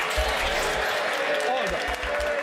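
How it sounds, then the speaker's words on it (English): MPs clapping in the House of Commons chamber during Prime Minister's Questions, a dense, steady patter of many hands that fills the room without a break, with talk running beneath it. "you ought to be embarrassed by clapping"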